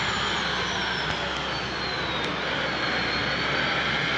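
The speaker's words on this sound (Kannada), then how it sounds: "ನಮ್ಮ ಇದರಲ್ಲಿ ಈ ಹೆಲಿಕಾಪ್ಟರ್ ಓಡಾಡುತ್ತೆ ನೋಡಿ" A helicopter in the Truck Masters India video game gives a steady, loud engine drone with a faint whine sliding across it, continuous and unbroken without talk.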